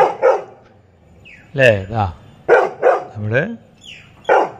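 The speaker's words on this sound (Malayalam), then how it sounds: "പട്ടി കുരയ്ക്കുവാണ്" A dog barks several times in short bursts, close by, with a person speaking between and over the barks.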